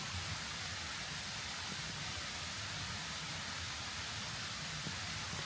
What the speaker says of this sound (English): There's still the white noise of the river